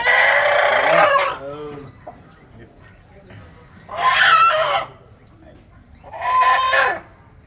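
A hen being chased to be caught squawks and clucks loudly in three separate bursts, with short quieter pauses between them.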